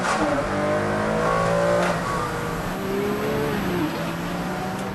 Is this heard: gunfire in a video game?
no